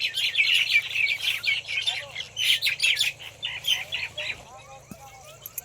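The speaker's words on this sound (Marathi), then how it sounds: "इकडं आंब्यावर पक्ष्यांचा चिवचिवाट चालू झाला" Many birds chirping and twittering together in a mango tree at dusk in a village, a busy, continuous chorus, fairly close, with a low steady hum underneath.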